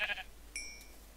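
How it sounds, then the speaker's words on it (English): Sheep bleat once in the Minecraft video game, a short nasal bleat followed by a thin tonal game sound, fairly quiet over low background hum. "There is sheep."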